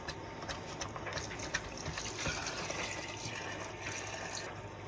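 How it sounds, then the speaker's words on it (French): Water is poured slowly into a pot of cooking meat, a steady close splashing trickle with soft bubbling, continuous and fairly quiet, with no talk. "ça veut dire on peut déjà commencer à mettre l'eau"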